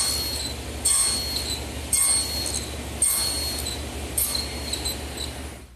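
A table saw nibbles away waste on a wooden table rail, its steady high whine broken by a sharp cutting burst roughly every second as the blade takes repeated passes.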